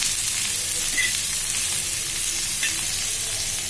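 Diced potatoes with crushed peanuts and salt sautéing in a pan over low gas, a steady broadband sizzle with faint stirring scrapes, continuous and close with no talking.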